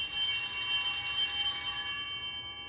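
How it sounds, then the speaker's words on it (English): Bright, sustained bell ringing with shimmering overtones, a cluster of small altar bells chiming continuously and slowly fading toward the end. "The sound of altar bells ring a little differently this Sunday."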